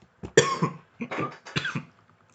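Three harsh coughs in a row, close and loud, each a short rough burst with brief pauses between.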